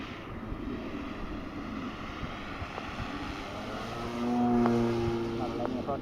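Seagull Supertucano electric-converted RC plane diving on its maiden flight, a steady wind-buffeted rush with an electric motor whine rising in pitch and swelling louder toward the end.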